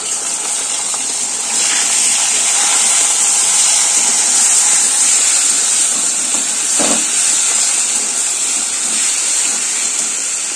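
Garlic paste, onion paste and grated tomato sizzling in hot oil in a pan, a loud steady hiss with a soft thud partway through.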